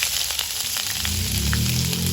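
Whole cumin and spices hitting hot oil in a wok for a fish curry, giving a loud, steady sizzle and crackle that swells slightly as it continues, with no talking.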